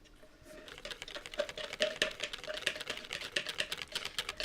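Rapid clattering whisking for a soufflé, a dense run of quick taps that builds in loudness and stays close and busy with no voices over it.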